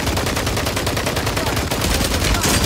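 Rapid, loud automatic gunfire fills a Call of Duty: Warzone firefight. Dense bursts repeat through the whole moment with no break.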